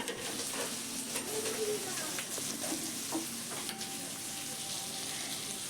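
Water hitting a sizzling pan of spiced masala with chilli and cumin powder for pabda fish kalia, giving a loud, steady frying hiss with soft stirring scrapes throughout.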